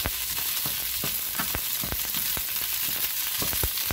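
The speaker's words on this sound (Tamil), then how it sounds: "நம்ம முதவே வெண்டைக்காயை வதக்கி எடுத்துக்கலாம்" Okra sizzles and crackles steadily in a hot pan, with occasional scraping clicks of stirring layered over the constant frying hiss.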